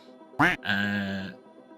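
A single spoken duck quack imitated by a voice, a short nasal honk with a clear rising pitch, followed by a brief buzzy held note, close and loud against a quiet background.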